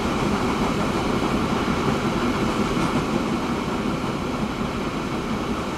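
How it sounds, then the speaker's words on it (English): Rumbling freight train pulling in within the Transport Fever simulation game, a steady dense roar of rolling wagons and wheel noise, loud and continuous with no voices. "So we'll watch this guy pull in and drop off his oil, crude oil."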